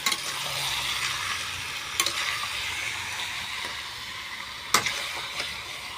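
Chicken pieces are stirred in a hot frying pan, a steady soft sizzle running throughout with a couple of sharp scraping clicks of the spoon against the pan.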